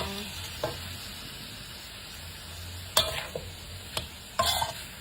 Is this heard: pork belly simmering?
yes